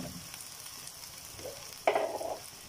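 Okra with onion, garlic and red pepper is turned in a pan, a quiet low sizzle with faint stirring scrapes and one brief louder scrape near the end.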